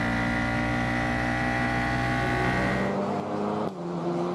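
Ligier JS F4 race cars passing on the COTA circuit during an F4 U.S. race, loud buzzing engine drone that holds steady, then drops and shifts in pitch as the cars go by.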